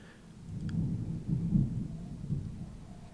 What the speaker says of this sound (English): big thunderclap